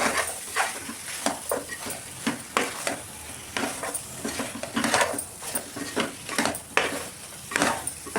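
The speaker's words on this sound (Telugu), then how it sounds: "మసాలా కూడా మంచిగా కలిపిన తర్వాత" A spoon scrapes in quick, repeated strokes through masala and cooked tomatoes in a pan for mutton curry, over a soft continuous sizzle, all fairly quiet and close.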